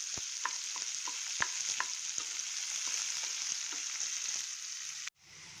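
Food fries in a pan with a quiet, steady hiss, broken by sharp little pops and spatters. The hiss cuts out abruptly near the end.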